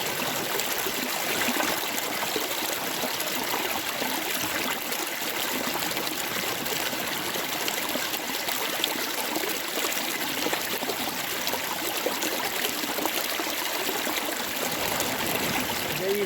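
Sea water on a beach where someone is metal detecting, a constant close rushing wash of water with no distinct breaking waves, steady throughout with no voices.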